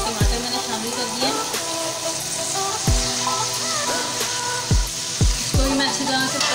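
Tomatoes fry with sautéed onions in a pan for Chettinad chicken curry, giving a steady, bright sizzle broken by several sharp clanks of a spoon stirring against the pan.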